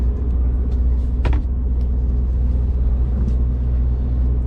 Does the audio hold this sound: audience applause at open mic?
no